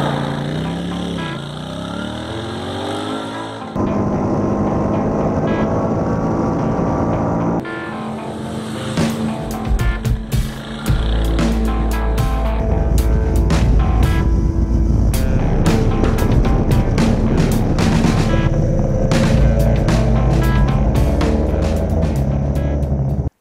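A Royal Enfield Continental GT 650 motorcycle is being ridden, its engine droning loud and steady under heavy wind buffeting. The engine note rises and falls with gear changes, and one quieter stretch comes near the start.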